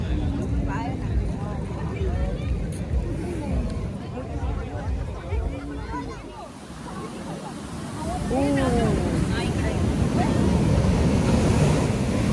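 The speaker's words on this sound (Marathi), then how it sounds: "पाणी खवललं इथं." Rough sea surf off Goa surging and crashing with strong wind buffeting the microphone, a continuous loud roar that swells toward the end, with voices faintly present.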